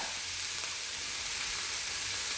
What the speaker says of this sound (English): We're gonna really quick saute these up